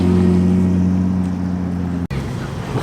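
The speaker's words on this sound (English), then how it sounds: "Sounds wonderful, that big straight six engine." A big classic straight-six car engine idling steadily nearby at an evening classic car meet, a deep even hum with strong low harmonics that briefly cuts out, then resumes rougher and lower.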